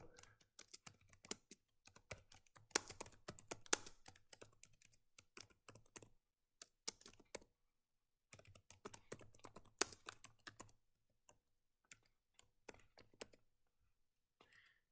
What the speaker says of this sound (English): I'm going to manually type it in though.